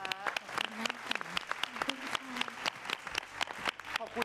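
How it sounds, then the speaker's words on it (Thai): Scattered audience clapping from a Thai television show's studio crowd comes in sharp, uneven bursts, mixed with a voice talking over it throughout. "ขอเสียงปรบมือกับน้องแพรวาหน่อยได้ไหมคะ"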